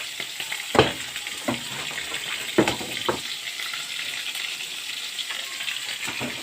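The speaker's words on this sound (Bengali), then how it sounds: "এবার কচুটা আমি ঢেলে দেবো ঝুড়ির মধ্যে," Boiled taro is tipped into a basket, its cooking water draining away in a steady low sizzling hiss with a few soft knocks, fairly quiet and close, no voices.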